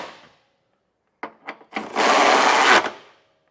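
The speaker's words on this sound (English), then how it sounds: "I'll first tighten the bolts going into the frame on either side with a 19mm socket." Power tool or ratchet driving a 19mm socket onto trailer hitch bolts on a 2025 Toyota RAV4 frame, a couple of short clicks followed by about a second of loud, steady whirring close up.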